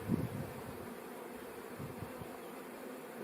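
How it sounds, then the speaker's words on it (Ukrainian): Honey bees buzz at a beehive, a steady close hum of many insects continuing throughout, with a brief louder burst at the start. "Знизу бачу повно бджоли."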